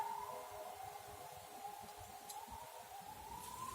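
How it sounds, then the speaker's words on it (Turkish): A distant ambulance siren outdoors wails in a slow rising and falling tone, faint and steady, with a low rumble of background noise and no talking. "Bakın dışarıda ambulans sesi şu an buraya geliyor"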